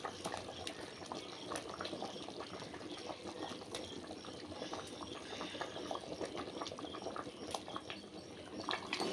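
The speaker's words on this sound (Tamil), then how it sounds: "குழம்பு நல்லா கொதிச்சிடுச்சு" A pot of tender mango curry bubbles at a steady rolling boil, with dense popping and gurgling close by and no talking.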